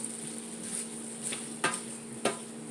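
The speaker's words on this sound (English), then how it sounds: "just give it a good final stir" Vegetables and garlic shrimp stirred in a frying pan, a soft steady sizzle with a few sharp scrapes and knocks of the utensil against the pan.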